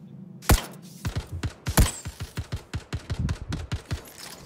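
Sharp gunshots in Star Citizen, two loud cracks from a sniper rifle followed by a quick run of rapid, evenly spaced shots, close and punchy.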